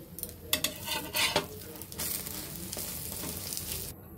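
An egg frying in a pan, a steady broadband sizzle with a few sharper bursts and spatula scrapes, close and fairly loud, no talk.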